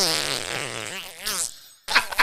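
A voice imitating a fart noise, a wavering, buzzing blurt lasting over a second, followed by a brief pause and a short burst of vocal noise.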